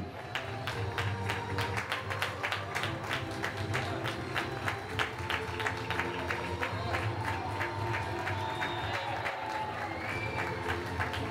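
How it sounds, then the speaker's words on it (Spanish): Sustained crowd applause and clapping at a Pinar Extremo race event honouring a female participant, steady and dense throughout with faint voices underneath. "Fuerte aplauso para Francisca Ruiz Ruiz."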